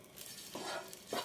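Ginger garlic paste hitting hot oil in a pot, a faint steady sizzle with two soft scraping bursts from stirring, quiet and close, no speech.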